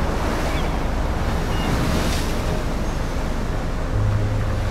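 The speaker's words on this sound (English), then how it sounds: "So this must be a hurricane." Hurricane wind roars with crashing ocean waves in the video game Life is Strange, a dense, continuous wash of loud noise with no voices.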